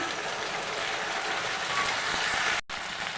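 Chopped tomato and ground spice paste sizzle in frying onions for a Bengali bhola fish dish, a steady close hiss and crackle that cuts off briefly near the end.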